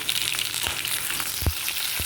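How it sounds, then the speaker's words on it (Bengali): Potatoes and pointed gourd frying together in a pan give a steady, close hiss and sizzle, with a few soft stirring knocks and pops scattered through it. "আমি যখন ভাজি আলু পটল আমি একসাথেই ভাজি"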